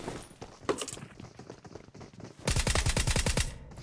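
Gunfire in the mobile battle royale game PUBG Mobile: scattered single shots at first, then a loud rapid automatic burst of evenly spaced shots lasting about a second. No speech is heard.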